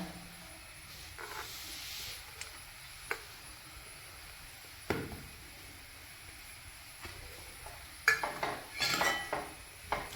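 Potato masala stirred in a pan for masala bonda: soft scraping and occasional metallic clinks of a spoon against the pan over a steady faint hiss, growing busier toward the end.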